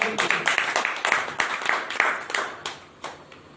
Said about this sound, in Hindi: इनके स्वागत में एक बार तालियां बजा दी।